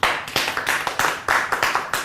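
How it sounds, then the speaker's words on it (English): An audience gives applause in a show vote, a small crowd clapping close and irregularly in sharp overlapping bursts, loud throughout and without talk. "Okay, we'll go by your applause"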